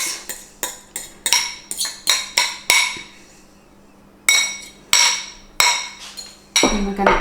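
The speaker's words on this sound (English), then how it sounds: "So we're going to add that to our rolled oats." Repeated sharp metallic clinks and taps of a utensil against a bowl as mashed banana is scraped into rolled oats, a rapid series of strikes, then a pause and several more, close and fairly loud with no talk.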